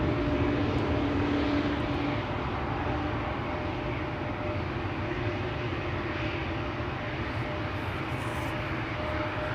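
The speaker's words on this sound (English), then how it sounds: "over here we have a KLM 737 to Madrid" A KLM Boeing 737 jet roars steadily at Schiphol Airport, a continuous broad engine rumble that stays loud and even throughout with no talking over it.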